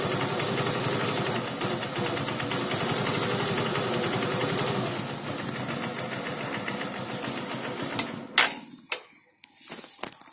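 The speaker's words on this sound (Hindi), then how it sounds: "देखिए बाइक स्टार्ट हो गई है," Honda Shine motorcycle engine idling after starting, a steady close rattling putter that runs evenly before cutting out, followed by a few clanks and handling noises.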